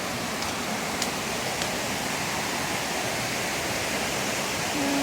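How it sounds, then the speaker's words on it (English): Comer's Creek Falls, a waterfall on the Appalachian Trail, gives off a steady, dense rush of falling water with no voices, holding at an even, fairly loud level throughout. "I made it to Comer's Creek Falls."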